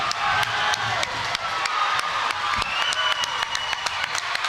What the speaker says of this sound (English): we even have fans from other schools standing up, cheering this on